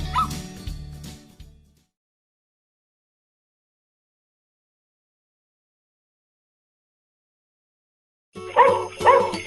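A remote control robot dog toy, the Intelligent Patrol Dog, gives a quick run of electronic yips and barks near the start, then goes silent before a second burst of bright, tonal barking at the end.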